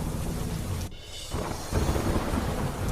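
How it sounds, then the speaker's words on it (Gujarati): Heavy downpour in Kheda district, a dense roaring wash of rain with rumbling thunder, briefly dipping in the middle before surging back louder; no one speaks. "ખેડા જિલ્લામાં ધોધમાર વરસાદ"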